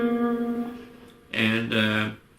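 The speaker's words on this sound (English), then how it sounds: "then you play the altered scale that sounds like this." A short run of sustained tonal notes from an altered scale over a blues, a held sound followed by two louder note groups in quick succession, played clearly with no talking.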